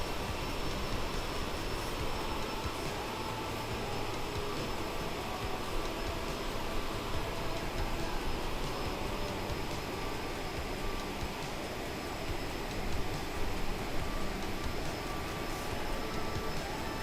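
Steady broadband drone of an airplane engine in a flight simulator game, constant and moderately loud with no clear changes in pitch, nobody talking.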